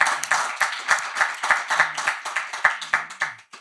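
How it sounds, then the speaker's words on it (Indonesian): Audience applause for an Indonesian preacher, heard as a steady run of sharp, close hand claps in an even rhythm, fairly loud and without speech. "Tepuk tangan buat Ustadz Wijayanto."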